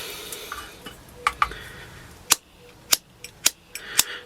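A lighter clicking repeatedly to relight a Trangia camping stove: several sharp, close snapping clicks spaced about half a second apart, after some softer handling noises.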